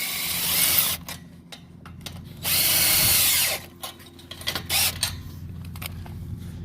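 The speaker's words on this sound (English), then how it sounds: "You're going to use a 7/16 deep socket on a cordless drill." A cordless drill with a 7/16 deep socket whirs in two steady bursts while assembling a trampoline frame, close and loud, with clicks and rattling of handling between runs.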